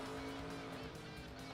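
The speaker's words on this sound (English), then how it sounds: "why is that car flying down pit road?" A race car in the NR2003 game roars past at speed on pit road at a Nashville track, a brief loud engine rush with a faint tire squeal, commentary voice underneath.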